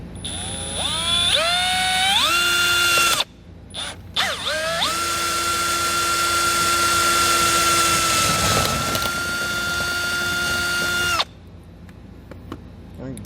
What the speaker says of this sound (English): I'm going to drill my pilot hole through the center and then continue drilling out that 3/4 inch hole